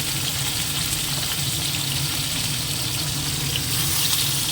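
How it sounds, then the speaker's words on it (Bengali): Fish pieces frying in oil for a mustard-paste curry, a steady dense sizzle that holds evenly and close for the whole stretch, with no voices over it. "মাছটাকে আগে ভেজে তুলে নিই"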